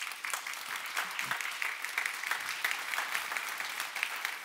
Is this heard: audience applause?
yes